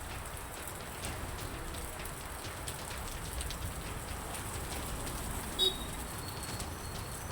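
Light rain showers over a city and its suburbs make a soft, steady patter throughout, with a faint bird call heard once in the distance.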